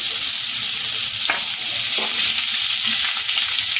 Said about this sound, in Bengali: এটা একটু ভেজে নিয়েছি এখন আলুগুলোকে মধ্যে দিয়ে দিলাম